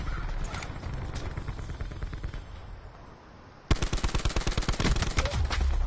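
Rapid automatic gunfire from a video game shootout with a robot, a steady rattling burst of dense shots, then a sudden louder, sharper stretch of fast repeated shots that stays up close and continuous.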